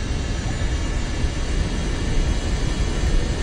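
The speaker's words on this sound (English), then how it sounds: "This is my small plane. It's a bomber. Oh, it's just extremely loud." Loud, steady engine roar of a small bomber plane in a video game, a dense rumbling drone that sounds much like a train, holding at constant volume throughout with no talk over it.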